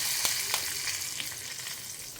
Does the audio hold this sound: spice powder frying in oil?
yes